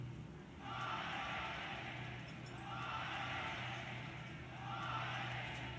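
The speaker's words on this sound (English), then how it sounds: "You hear the crowd chant," Crowd at a bullfight in Spain chanting "ole" three times in rising, swelling waves, distant and reverberant, with quieter gaps between each cheer.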